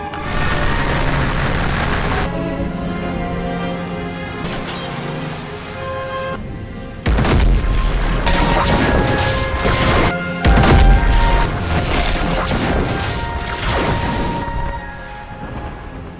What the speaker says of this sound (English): he then obliterated the rest of the Mechagodzilla city with 2 shots of his atomic breath